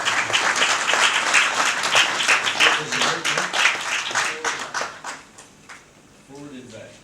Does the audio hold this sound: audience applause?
yes